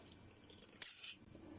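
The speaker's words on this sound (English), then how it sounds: "Yeah, scissors work great." Scissors snip through thin, tinny sheet metal in a single close, sharp cut with a brief metallic ring and scrape, set against a quiet background.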